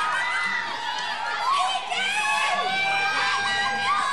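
A studio audience of fans at a live Filipino TV show screams and cheers continuously, with high shrieks and whoops from a dense crowd, loud and sustained.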